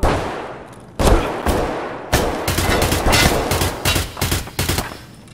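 Players trade shots in the shooter Escape from Tarkov, heard as loud, close gunfire with sharp single cracks and then rapid bursts that come in quick clusters, echoing for a moment after each volley.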